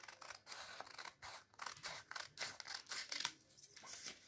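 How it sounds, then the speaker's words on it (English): Scissors snipping through paper while trimming a folded square for a paper crown, a quick series of close, quiet crisp cuts in an irregular rhythm with no talking. "I am going to cut this extra portion."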